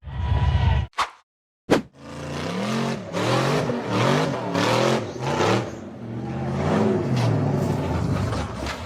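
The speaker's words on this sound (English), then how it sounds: "The red buggy climbed the steep, rocky dirt slope" A red off-road buggy climbing a steep, rocky dirt slope revs its engine loudly and steadily after a few sharp knocks, the motor rising and falling in long strained pulls.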